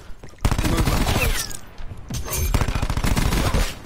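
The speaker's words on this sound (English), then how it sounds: "this gunfire is fast" Dense, rapid bursts of video game gunfire in Call of Duty Black Ops 4 crackle almost continuously, loud and close, with brief gaps between volleys.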